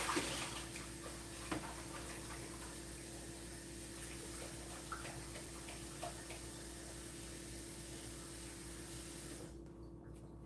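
Tap water running steadily while a bell pepper is rinsed at a kitchen sink, a soft continuous hiss with faint splashes that stops near the end.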